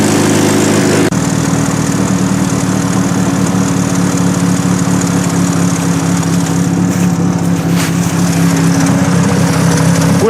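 A long-dormant old Buick engine runs steadily after a cold start following roughly fifteen years of sitting, a loud continuous rumbling idle that kicks in about a second into the recording and holds alone without any talking.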